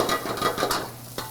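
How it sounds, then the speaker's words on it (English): Peppers stir-fry in hot oil in a pan, giving a steady close sizzle broken by quick scraping stirs and light clinks of a utensil against the metal. "Pepper's gonna go in, then you're gonna saute it. Stir fry. I'm gonna add a little bit of your frying oil."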